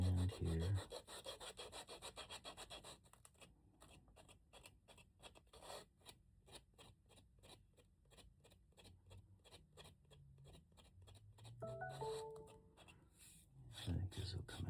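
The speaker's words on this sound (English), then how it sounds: "go ahead and sand this. Give you a little leather ASMR this evening. And a little sand here." Leather for a mini wallet is sanded by hand in soft, even, rhythmic rubbing strokes recorded close and quietly. Brief talking comes at the start and the end.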